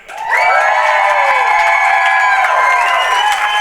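A crowd at a live show in Hamilton, Ohio cheers and shouts loudly and continuously, with high whoops and yells dominating. Sparse clapping sits under the cheering, and no one speaks.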